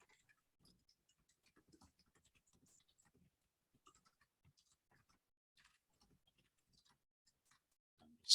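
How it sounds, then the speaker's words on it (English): Faint, sparse clicking of computer keys pecks along irregularly in a quiet room, with one louder knock at the very end and no talking. "Sorry about the typing noise."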